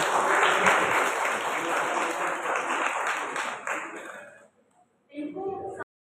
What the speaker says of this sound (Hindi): एक बार जोरदार तालियों से इनका स्वागत।